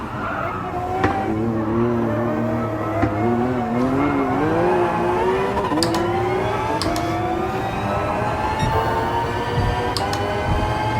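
A Gran Turismo race car engine revs steadily and loudly, its pitch rising through the gears and dropping with each shift, with tires squealing now and then and no talking.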